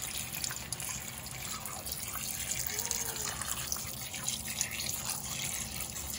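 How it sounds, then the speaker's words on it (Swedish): White wine is poured into a pan for cooking cod, a steady liquid trickle and splash over faint kitchen background noise. "Häller på vitvin."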